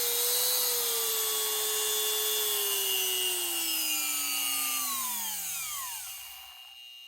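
A Milwaukee multi-tool powered by an M18 TOP-OFF 175W portable power supply runs with a steady, close, high-pitched whine and buzzing overtones, then spins down in falling pitch before cutting off near the end.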